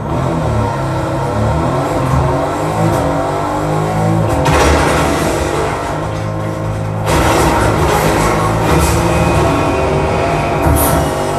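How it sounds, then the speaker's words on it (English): Car engine revving in a video game, a loud steady droning rumble with surges of acceleration throughout, heard alone. "Let's jump in the car, see what this is like."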